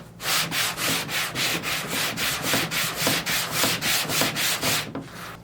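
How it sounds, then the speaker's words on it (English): A flexible-edge JTCAN sanding block is rubbed back and forth across a panel, giving a steady run of rhythmic, close rasping strokes that continue for several seconds with no talking. "So as I sand across this panel and come into this area of transition,"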